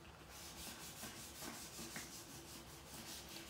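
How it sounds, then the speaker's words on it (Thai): Steady rubbing and scrubbing of a wet surface with a foaming cleaner to remove water stains, a continuous close-up abrasive swish with a regular back-and-forth rhythm. "ใส่น้ำเสร็จแล้วนะคะแล้วเราก็จะมาขัดกันเลยเนาะ"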